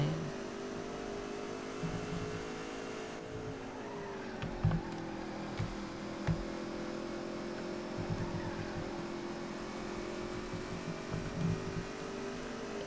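A NASCAR race car engine in NASCAR Racing 3 at Rockingham holds a steady high drone while the loose car slides on the track, with a few brief knocks and bumps and no talking.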